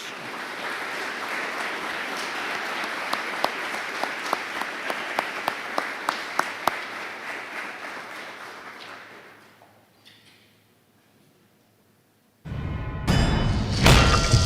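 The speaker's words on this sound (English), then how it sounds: "Let's have one more round of applause for the 2021 National Honor Society members." An audience at a National Honor Society induction ceremony applauds steadily for several seconds, the clapping fading to near silence before a sudden loud burst of noise at the end.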